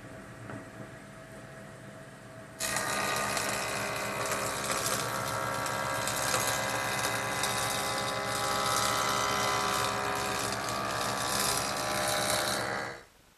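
A power saw rips through a wooden board for a drop leaf table, starting abruptly and holding a steady, loud, buzzing whine for about ten seconds before cutting off.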